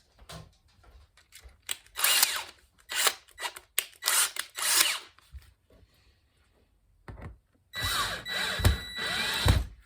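Hand screwdriver drives screws fitted with finishing washers into a cigar box guitar in several short grinding, ratcheting bursts separated by pauses, close-up, with a longer stretch at the end.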